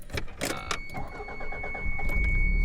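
A turbocharged Toyota MR2 engine idles steadily inside the car, a low continuous rumble with a thin high whine running underneath throughout.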